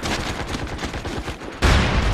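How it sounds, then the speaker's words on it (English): Rapid gunfire from a shotgun in the online military shooter MAG, a quick run of repeated loud shots followed by a sudden louder burst near the end. "I was just trying to see if I can get shoot all the bullets out of my shotgun"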